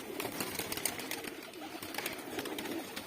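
Pigeons coo softly in a loft, with low repeated cooing and faint rustling in the background, quiet and fairly close.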